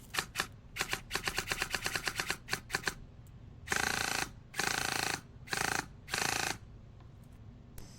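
SSG-1 DSG rifle firing tracer rounds in a Resident Evil style video game: several quick bursts of sharp clicky shots early, then four longer sustained bursts of fire, moderately loud and close, with no talking.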